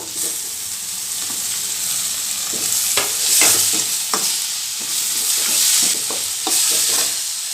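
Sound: frying tomato and masala in a pan for chilli prawn fry

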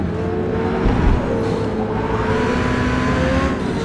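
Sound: Ferrari race car engine cutting out in Forza Motorsport video game

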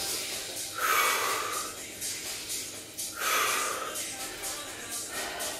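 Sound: breathing during dumbbell lunge exercise

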